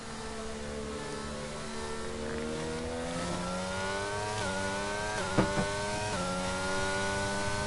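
A safety car engine in a racing video game lapping the British circuit, a steady mid-pitched drone rising through gear changes with repeated upshifts, close and continuous, no talking.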